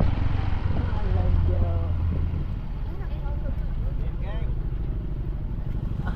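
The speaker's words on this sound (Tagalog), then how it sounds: "Mga nagparada motor oh." Several motorcycles rumble past together in a parade, a steady low engine drone filling the scene while people talk loudly over it nearby.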